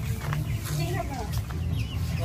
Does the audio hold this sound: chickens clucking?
yes